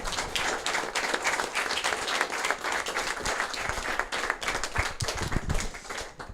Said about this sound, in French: on peut les applaudir à nouveau pour avoir répondu à toutes vos questions